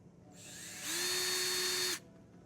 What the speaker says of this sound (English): I'm going to start drilling this with our 11/64 drill bit here.